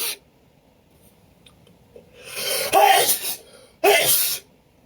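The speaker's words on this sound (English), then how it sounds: "You've sneezed so much." Two big, forceful sneezes from a man with a perfume allergy: a breathy build-up swells into the first loud burst, followed by a second sharp, explosive sneeze, close and clear against a quiet room.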